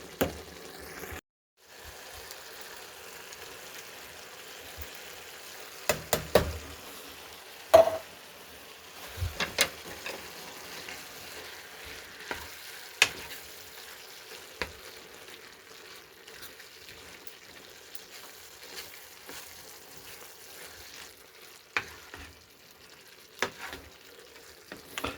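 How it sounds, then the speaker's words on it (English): Navajo taco filling, meat with beans, fries and crackles steadily in a pan, broken by sharp scrapes and clacks of a spoon stirring, loudest in a few bursts before settling back to an even sizzle. "then I'm gonna give it a good stir"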